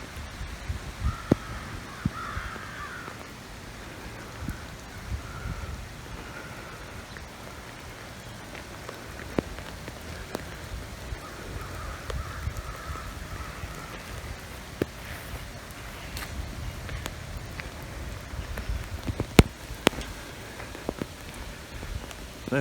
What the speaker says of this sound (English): back into the rain.